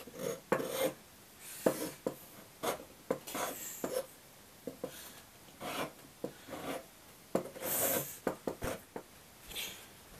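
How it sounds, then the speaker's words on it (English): Steady rough rasping of a Shinto rasp cutting wood on a guitar part, in repeated strokes of varying length with short pauses between them, close and fairly loud. "I'll just simply use a Shinto rasp to cut down"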